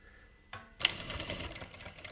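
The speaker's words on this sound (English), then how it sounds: "Okay, so we're sewing along." JACK industrial sewing machine starting up and stitching fabric, a brief mechanical clunk followed by a quick, close run of rapid stitching.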